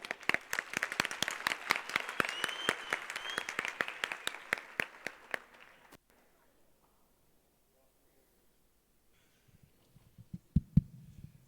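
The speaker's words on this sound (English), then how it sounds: "warm round of applause" Applause from an audience welcoming a speaker at an awards event, a dense burst of clapping for about six seconds before it stops abruptly, then near silence and a few faint scattered claps at the end.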